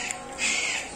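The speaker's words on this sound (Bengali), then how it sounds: "এখানে হরেক রকমের পাখি" A bird calls in a single short rasping burst at a bird park in Sreemangal. It sounds fairly close over quiet background noise.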